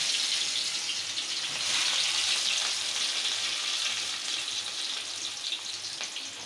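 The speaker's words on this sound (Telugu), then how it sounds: "నూనె అయితే కాగిపోయింది ఇప్పుడు మనం ఉల్లిపాయ వేసేసుకుందాం" Onions going into hot oil for a Telugu crab curry, giving a steady, close broadband sizzle that swells briefly and carries on without a break, with no voices.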